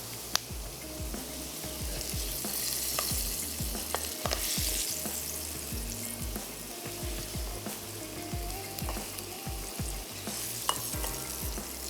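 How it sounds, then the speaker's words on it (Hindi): Shredded cabbage and capsicum frying in a pan, a steady close sizzle broken by repeated scraping and stirring strokes, with no talking. "और बाकी जो हमने टॉस की हुई हैं बंद गोभी और कुछ और शिमला मिर्च रह गई है, उसको भी हम यहाँ पर फ्राई कर लेते हैं।"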